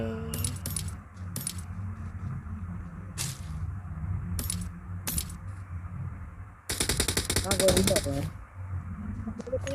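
AKM assault rifle fire in the mobile shooter BGMI rings out in sharp single cracks, then a dense automatic burst near the end, with a player talking over the action.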